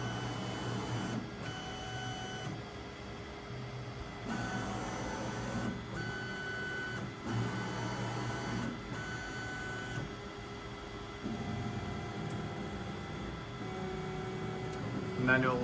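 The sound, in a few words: 3D printer tramming the bed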